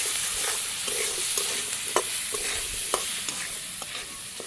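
Salt, turmeric and dried chili powder sautéing in a pan in a Bangladeshi home kitchen, a constant bright sizzle with repeated scraping stir strokes, close and fairly loud, no talking.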